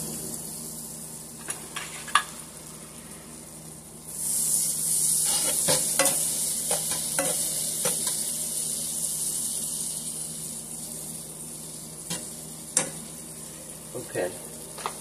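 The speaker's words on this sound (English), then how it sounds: "let's get that butter melted down" Butter melts in a pan and breaks into a bright steady sizzle after a few quiet seconds, the hiss slowly fading, with a few scattered clicks and knocks of utensils.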